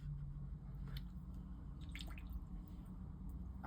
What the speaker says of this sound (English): I've washed my brush, taken the water off